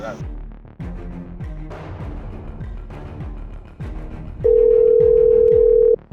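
A steady telephone dial tone hums loudly for about a second and a half, over background music with a rhythmic beat.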